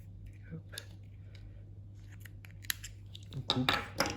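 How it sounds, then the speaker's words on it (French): Scissors snip carp fishing line in a few soft, close clicks over quiet room tone, with faint rustling handling sounds rising toward the end. "les ciseaux."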